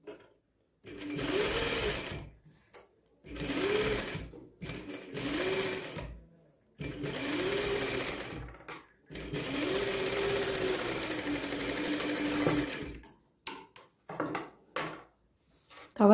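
A sewing machine runs in several bursts while stitching the armhole of a blouse, each stretch of steady whirring clatter broken by short pauses, loud and close.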